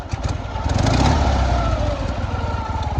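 A motorcycle engine runs steadily right after being started, a loud, close, rough idle with a fast pulsing beat and a slight rise in pitch.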